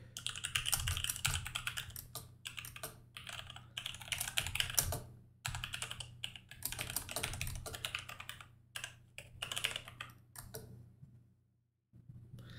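Rapid, steady typing on a computer keyboard, dense clicking in quick bursts with brief pauses over a low hum, close up, ending in near silence.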